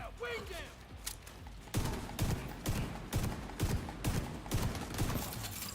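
Rapid bursts of gunfire from The Division 2, a run of repeated shots from about the two-second mark onward, loud and close with a dense game soundscape around them.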